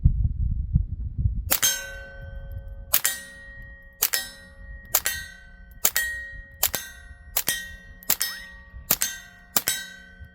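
A Taurus TX22 Gen 2 .22 pistol fires out the rest of its magazine: about nine sharp, ringing shots at a steady pace, each with a short metallic ring, loud and close with no talk.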